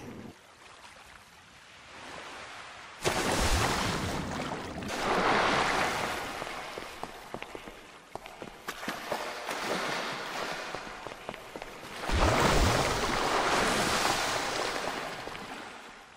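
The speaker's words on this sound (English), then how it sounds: "Waves and waves." Ocean waves in GTA 5 during a flood, heavy surges of rushing water crashing in two big swells with a calmer wash between, loud and close with no talk.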